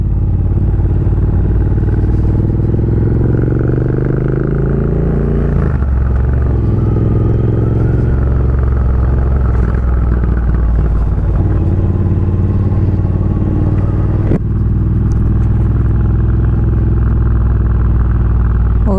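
A custom Triumph Bonneville bobber motorcycle rides along on a sunny day, its engine and exhaust rumbling loud and close in a steady low drone with slight rises and dips in revs, no voices over it.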